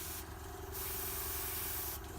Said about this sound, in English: So first off, we're going to start spraying it. We can see it's the pressure's a bit too low